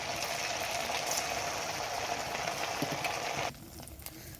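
Gobindobhog rice sweets sizzle in hot oil as they deep-fry until reddish, a steady soft crackling hiss that drops off abruptly near the end.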